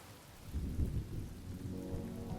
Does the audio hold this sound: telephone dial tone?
no